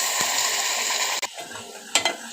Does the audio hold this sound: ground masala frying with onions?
yes